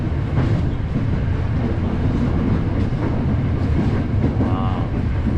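KRL commuter train riding the rails between Tanah Abang and Duri stations in Jakarta, a steady loud rumble of wheels and carriage noise throughout with a brief squeal, no talk.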